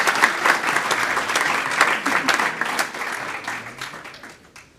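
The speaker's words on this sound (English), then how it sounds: "A round of applause, please, for our students." Audience applause for students at a Greek Letters Day 2023 ceremony, a steady dense clapping crowd filling the space and gradually thinning out toward the end.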